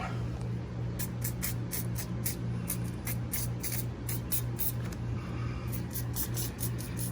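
An aerosol can sprays in short repeated bursts onto the battery area of a 1973 Mach 1 Mustang, a close hissing rhythm with brief gaps and a low steady hum beneath.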